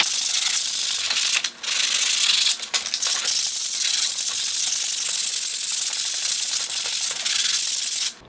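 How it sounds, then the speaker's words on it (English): Hand sanding with 80 grit sandpaper, scuffing down a mini truck's plastic dash top after old repairs were cleaned out; a steady, close, hissing rasp runs throughout with brief pauses between strokes. "Now I'm going to scuff the whole thing down with 80 grit sandpaper."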